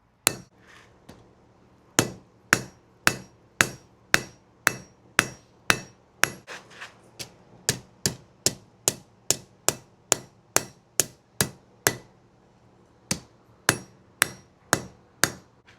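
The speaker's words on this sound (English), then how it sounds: "what we're going to do is bring it across the anvil and hit it here" A blacksmith's hammer striking hot metal on an anvil while forging a medieval rush light holder: a long series of sharp, ringing blows in a steady rhythm, close and loud, with brief pauses between runs.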